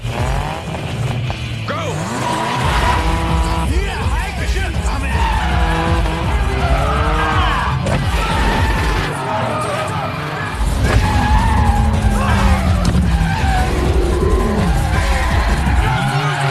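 Tires skid and squeal through a dense, sustained car race in an action film set abroad, with screeching engines and scraping impacts against walls and other cars, loud and continuous throughout.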